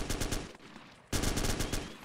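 Rapid automatic gunfire from a weapon in the video game ArmA 2 rattles in two loud close bursts separated by a short pause.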